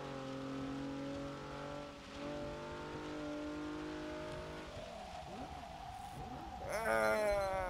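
A Nissan Fairlady Z races in Forza Motorsport 6, its engine holding a steady, loud, droning note that dips and shifts through gear changes before climbing into a sharper rev near the end.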